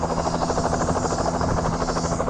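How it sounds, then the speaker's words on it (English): A helicopter starts up close by beside an outdoor waterside table in a bay full of islands, its loud, steady rotor chop and turbine whine filling the air with no talk. "helicopter started up that close to you"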